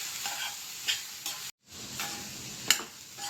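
Snake gourd thoran with grated coconut and curry leaves being stirred in a pan, a short burst of close scraping and light sizzling with a brief gap and a sharp utensil tick near the end.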